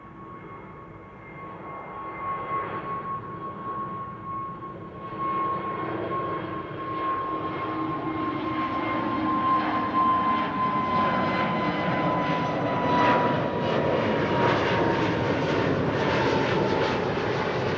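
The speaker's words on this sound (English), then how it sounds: "KLM flight 791 to Sao Paulo, lined up at the threshold. Next departure. That's 777-300." A KLM Boeing 777-300 departs from the Kaagbaan runway at Amsterdam Schiphol, its jet engines building from a tonal whine into a rising, rumbling roar that stays loud and sustained.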